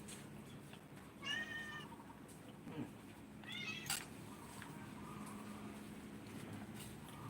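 A cat meows a few times at moderate distance over a steady low background hum, with someone talking nearby at a food-themed live stream.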